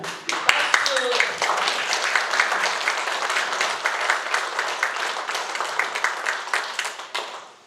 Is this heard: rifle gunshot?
no